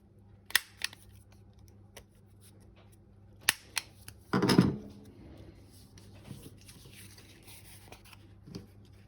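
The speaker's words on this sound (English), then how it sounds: "just trim that excess off before I round these corners too" Thick card for a junk journal being trimmed with scissors: a few sharp snips, then one longer, louder cutting crunch midway, with faint handling noise between, close and otherwise quiet.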